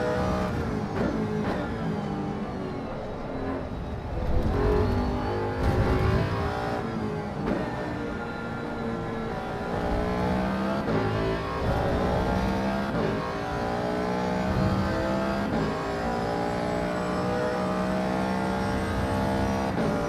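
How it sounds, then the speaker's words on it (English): A Ford Mustang race car engine in Assetto Corsa Evo, video game, revs hard and steadily, climbing through gears with rising harmonic whine and brief drops at shifts, loud, continuous and close throughout. "I love how this Mustang sounds"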